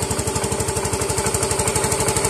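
Yamaha Mio Soul i 125 fuel-injected scooter engine idling close up after a new timing chain tensioner is fitted, a steady rapid pulsing putter with no ticking or knocking, loud and alone.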